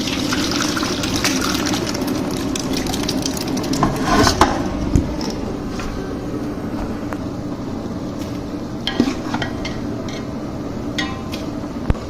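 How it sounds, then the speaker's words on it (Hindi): Cooked aloo keema slides from a cooking pan into a steel pot with a loud, thick gushing pour, while scattered clanks and scrapes of metal sound close by over a busy kitchen background. "अब हमने स्टील के पतीले में डालना है।"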